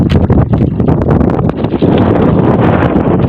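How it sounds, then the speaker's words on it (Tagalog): Steady easterly wind roars across the microphone at sea during night shrimp netting, a continuous broadband rush with gusty fluctuations, like open-water wind buffeting a boat, loud and close. "ang hangin natin na umiiral ngayon ay hangin salatan o easterlies"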